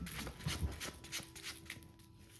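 Tarot cards being shuffled by hand, a soft papery riffling and sliding that sounds close but faint and continues for a couple of seconds with no talk over it.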